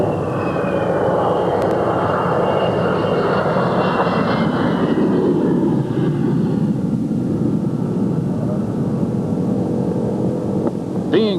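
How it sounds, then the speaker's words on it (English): F-16 fighter jets land at an air show, heard as a loud, steady jet roar with a whining tone that slowly falls in pitch as the aircraft pass and settle, with no voices. "they bring the F-16s back to Earth"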